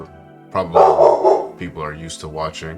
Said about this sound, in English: That was my dog in the background